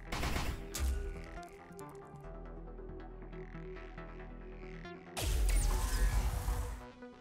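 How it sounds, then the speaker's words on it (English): Burst fire from a weapon in the sci-fi game Deep Sky Derelicts: a sharp initial shot, a low mechanical hum with faint tones, then a loud crashing volley near the end. "And then burst fire, 3x2 to 3. Let's go for that, actually."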